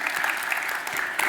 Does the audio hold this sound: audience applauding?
yes